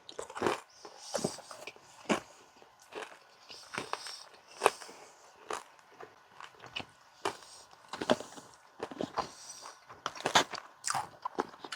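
Grilled prime rib is eaten outdoors in snowy wilderness near a freezing lake: close, irregular bites and crunchy chewing come in repeated bursts, with short quiet gaps between them.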